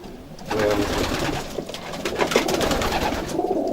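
Pigeons coo in a loft of mixed breeds, with soft repeated calls overlapping close by against a rustling background.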